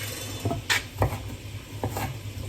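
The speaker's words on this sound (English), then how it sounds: "just give the sweet potato a bit of a stir." A spoon stirs sweet potato in a pot during a chowder cook, giving a few soft scraping and clinking strokes spaced about half a second apart at close range, with no voices.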